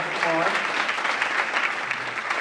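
An audience applauds at an evening community conversation on race in a donated room: dense, steady clapping fills the whole stretch, with a voice briefly heard at the start.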